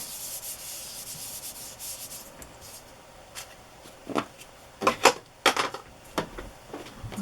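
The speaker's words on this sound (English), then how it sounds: "I'll just brush a little ink on it to make it look a little older." A brush dabs and rubs ink onto a craft stamp, producing soft, scratchy brushing strokes close up, faint at first then a quick flurry of louder rubs, with no talking.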